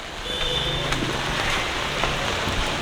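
Steady rain falls in a broad, even hiss, with faint scattered drips and distant noise beneath.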